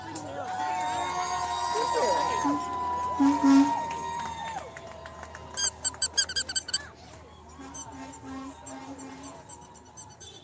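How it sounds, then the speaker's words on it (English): Toy frogs give bursts of rapid, sharp high squeaks at an outdoor protest rally in Lakewood, Washington, close and loud over a cheering crowd, with people talking nearby. "I hear froggies squeaking."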